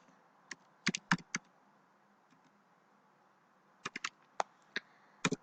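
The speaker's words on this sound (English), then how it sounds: "So I'm gonna type length" Short bursts of typing on a computer keyboard, clusters of crisp keystrokes separated by quiet gaps, close and fairly faint.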